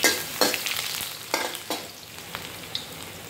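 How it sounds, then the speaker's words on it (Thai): Garlic fries in oil over medium heat, giving a steady crackling sizzle broken by several sharp bursts as pieces are stirred in the pan. "ใช้ไฟกลางนะคะ ใส่กระเทียมลงไปค่ะ"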